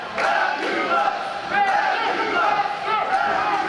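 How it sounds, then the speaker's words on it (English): A wrestling crowd chants in unison for Fab, a rhythmic rise and fall of many voices filling an indoor event hall, loud and continuous throughout. "this follow the leader crowd, now all of a sudden chanting for Fab"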